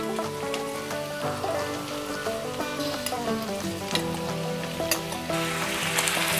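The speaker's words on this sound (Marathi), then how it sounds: "आता हा तांदूळही या भाज्यांसोबत छान असा परतून घ्यायचा आहे आपल्याला." Rice and mixed vegetables sautéing in a pressure cooker, a dense continuous sizzle with frequent stirring clatter, close and steady throughout.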